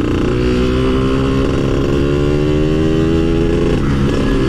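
A 124cc motorcycle fitted with a small-diameter aftermarket exhaust drones loudly and steadily at speed, its engine tone rising in pitch with wind noise throughout.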